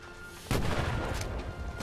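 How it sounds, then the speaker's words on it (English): A sudden grenade blast and rattling gunfire break out in the Medal of Honor VR video game, a loud sustained burst of combat noise that starts abruptly and continues. "Oh, he's throwing grenades and shit."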